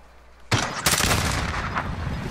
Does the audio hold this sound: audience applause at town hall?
no